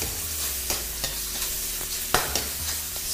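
Chicken sears and sizzles in a smoking-hot wok for a chow mein, a steady close frying hiss broken by several sharp clatters of stirring and folding, with no talking.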